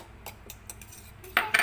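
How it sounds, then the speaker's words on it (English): A utensil clinks against a bowl while cornstarch is mixed gradually into butter-based batter for a steamed condensed milk cake, giving a few soft scattered taps and then two louder scraping clatters near the end, with no talk. "You have to mix it gradually."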